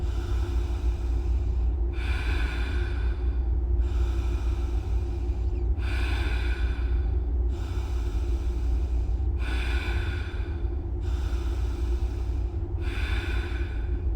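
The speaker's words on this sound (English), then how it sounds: "Three seconds inhale, 3 seconds exhale." Slow ujjayi breathing with roughly three-second inhales and exhales: airy, throaty breaths repeat in an even rhythm, close and clear over a low steady background hum, with no talking.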